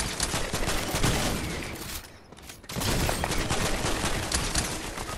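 Dense bursts of gunfire from a Fortnite match, sustained rapid shots with a brief lull before firing resumes just as loud, with no talk over it.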